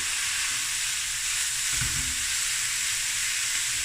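One kilogram of beef mince browning with onions in a pan for a vegetable bredie, a loud, constant sizzle with a brief stir or scrape near the middle.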